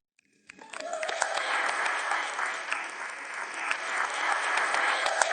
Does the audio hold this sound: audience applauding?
yes